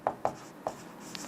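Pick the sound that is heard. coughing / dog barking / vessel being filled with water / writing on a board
writing on a board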